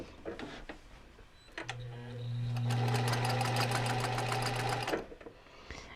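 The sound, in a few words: sewing machine stitching a seam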